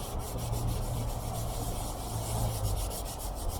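Steady, gritty scrubbing as a Scotch-Brite scouring pad rubs back and forth over a boat's aluminium mast, a continuous close rasp with a faint rhythmic pulse.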